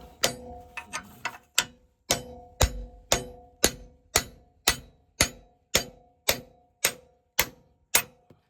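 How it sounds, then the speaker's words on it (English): Hammer blows striking a cold chisel set on a track shoe nut of a Hitachi UH061 digger: about fifteen sharp metallic strikes at a steady rhythm, loud and close, with a few quicker light taps at the start. "So get the cold chisel on top of the nut."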